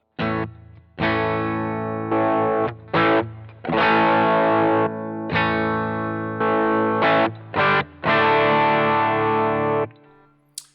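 An electric guitar runs through a Boss GT-1 with the drive turned down, playing loud, bright strummed chords and short stabs separated by brief gaps, close and alone, ending on a quiet fading note.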